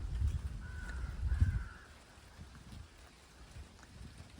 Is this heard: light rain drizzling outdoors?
yes